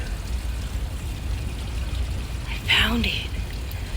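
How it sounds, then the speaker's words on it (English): Water runs out of a pipe in an abandoned West Virginia ghost town, a steady rushing flow heard close by, with someone speaking briefly over it. "I knew I heard water."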